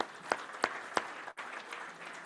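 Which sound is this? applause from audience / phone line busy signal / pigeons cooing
applause from audience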